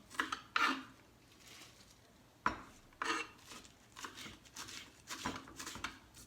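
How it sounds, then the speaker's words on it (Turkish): Knife strikes chopping fresh young spinach on a board, a series of crisp taps at uneven intervals, close and fairly quiet, with no talking. "Önce ıspanakları doğrayalım bu şekilde alıp"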